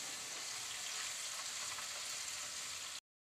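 Finely chopped green chillies fry in a pan for aloo methi, a quiet, even sizzling hiss that runs steadily for about three seconds and then cuts off abruptly.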